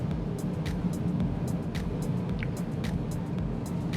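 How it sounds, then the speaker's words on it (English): A passing car on a residential street in Cape Coral produces steady, broadband road and engine rumble throughout, fairly close and continuous, with scattered light clicks on top. "Car behind me, so let me hurry up."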